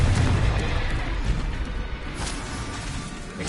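Fiery Confringo spell blasts in the Hogwarts Legacy video game, a sustained, booming, explosive roar with heavy low rumble and crackling debris that stays loud throughout with no break.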